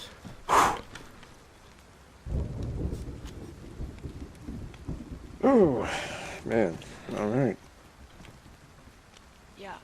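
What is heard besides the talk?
thunder and rain in video game DayZ Livonia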